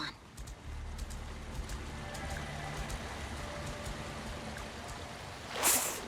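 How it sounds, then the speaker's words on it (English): Water rushing toward a waterfall ahead, a steady pouring, splashing roar that holds evenly, with scattered small ticks and a short louder burst near the end, no voices over it. "There's a waterfall ahead."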